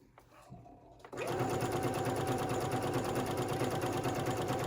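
A sewing machine runs a zigzag stitch along raw fabric edges while a tank top is made. After a quiet, faint start it jumps into a loud, steady, rapid mechanical whir that continues.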